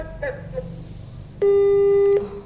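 A single steady electronic tone sounds for under a second on a telephone line when a call into a TV program cuts off, following a quiet stretch with faint murmuring.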